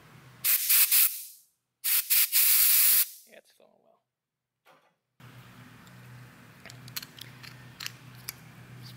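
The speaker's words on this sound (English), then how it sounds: "Put a little compressed air through there just to make sure everything's extra good." Compressed air blasted through the passages of a Ford Autolite 2100 carburetor during a rebuild, two loud close hissing bursts of about a second each, then a quiet workshop with faint clicks.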